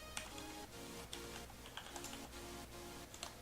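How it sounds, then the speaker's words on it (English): Someone types steadily on a computer keyboard while writing HTML and CSS code, producing quick, irregular clusters of close, light key clicks with occasional louder taps and brief pauses. "I'm going to keep typing it all"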